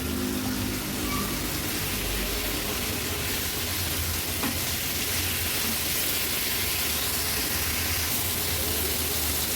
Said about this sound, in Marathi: व्यवस्थित ही भाजी आपल्याला परतून घ्यायची आहे.